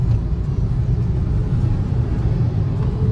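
Steady low road rumble of passing cars on a wet highway just past the Khandala tunnel after rain, a continuous engine drone with no talking.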